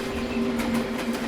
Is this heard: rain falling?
no